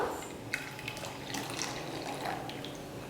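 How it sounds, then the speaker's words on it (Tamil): Milk pours steadily into a kadai used earlier for roasting rava while making dumroot halwa, a soft continuous liquid splash close by with no talking. "அதே கடாயில் இப்போ இந்த பாலை நம்ம அதில் ஊற்றிடலாம்"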